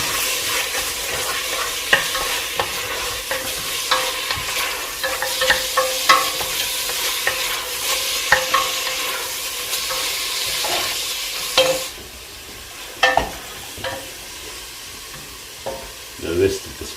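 Scallops sizzle in a pot with lemon, a steady hiss of frying under repeated stirring and occasional spoon scrapes and clicks against the pot.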